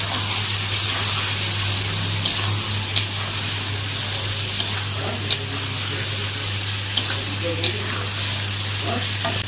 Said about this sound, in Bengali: ফ্লেমটা বাড়িয়ে দিয়ে আবার একটু কষিয়ে নেবে